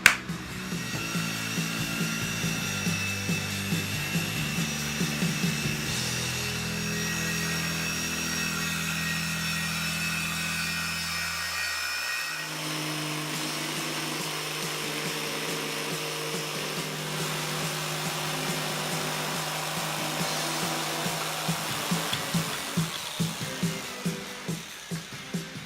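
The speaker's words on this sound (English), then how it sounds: "use my jig saw to cut out the corners for the post" A jigsaw cuts notches into the corners of a wooden utility table top, a steady buzzing saw drone that runs continuously, shifts pitch partway through, and ends with a few rattling strokes; no talking.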